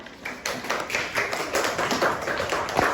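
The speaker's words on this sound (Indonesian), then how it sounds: "Oke, tepuk tangan." Hands clapping in a primary school classroom, a quick run of sharp claps from several people, close and continuous with no talk over it.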